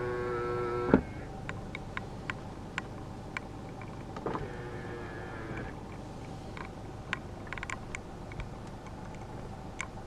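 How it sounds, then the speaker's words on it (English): Power folding side mirrors on a 2015 Mercedes-Benz E300 BlueTEC Hybrid, a faint motor whir in a quiet car with scattered small ticks and clicks. "this car does have power folding side mirrors"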